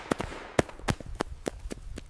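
Sharp firecracker bangs go off one after another at irregular intervals, crisp distinct pops ringing out against a quiet background.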